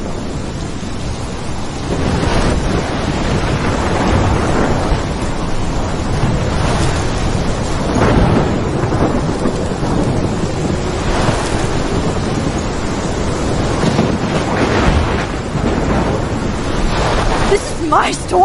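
Storm wind and crashing ocean waves in the video game Life is Strange, a loud, steady roar with surging swells throughout, and voices talking over it.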